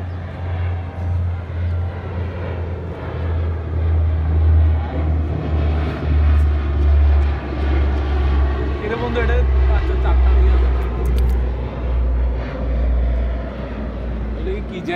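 A cargo jet flying overhead, a broad, steady roar that swells and holds loud across the whole stretch with no voices.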